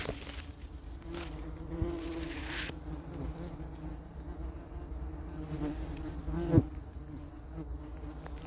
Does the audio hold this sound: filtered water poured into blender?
no